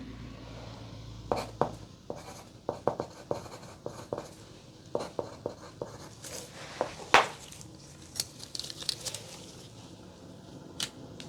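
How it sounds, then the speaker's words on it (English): A pen scratching on paper as a hand measurement is written down during a close, quiet glove-fitting session, with short irregular strokes and taps separated by soft pauses. "So I'm just gonna write that down."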